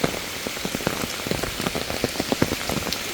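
Steady heavy rain pattering on surfaces, a dense close hiss with scattered sharper drop hits throughout and no voices.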